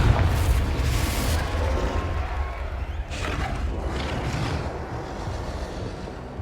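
Confringo fire spell explosion in the Hogwarts Legacy game, a loud rumbling blast that rolls on with a second burst of roaring noise partway through, no speech.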